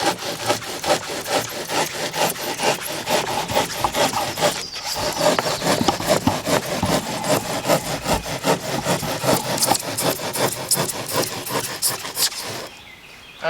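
A saw cuts through a Nudura insulated foam form, close and loud, with rapid rhythmic rasping strokes running continuously before stopping at the end.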